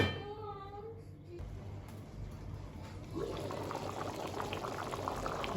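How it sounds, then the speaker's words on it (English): Beef pilau cooks in a covered pot with a soft, steady bubbling simmer that grows a little fuller partway through, faint and continuous with no talking. "Now we cover it and wait for it to cook."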